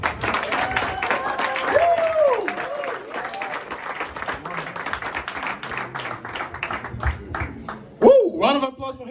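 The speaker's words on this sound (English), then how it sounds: "Round of applause for him one more time." Audience applause after a cancer fundraiser speech, a steady patter of many hands clapping across the room for several seconds, with voices and some speech mixed in and a louder burst near the end.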